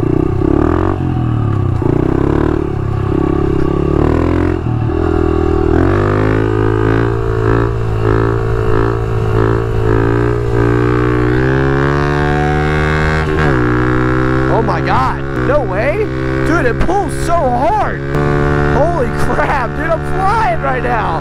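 A Honda CRF110 dirt bike with a tuned engine runs loud and close throughout, revving and climbing through gears as it is ridden, with clattery mechanical texture over a steady rising drone.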